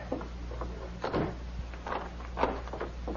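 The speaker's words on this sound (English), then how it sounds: "Close the door and lock it, Bob." An old Western radio drama's jailhouse door swings shut with a few soft wooden knocks and a rattle of the latch, close and fairly quiet over a low background hum.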